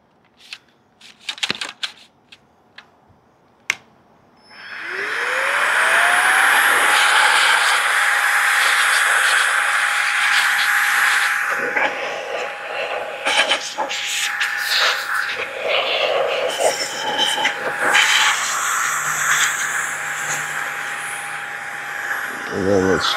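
A Roedix AD33 cordless air duster is switched on with a rising whine and then roars steadily as it blows out a Dyson V10 vacuum filter. A few handling clicks come first, and the blast shifts as the nozzle moves, close and loud.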